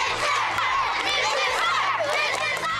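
Schoolchildren cheering and shouting for their principal as a crowd, loud and continuous, with excited overlapping young voices and chatter.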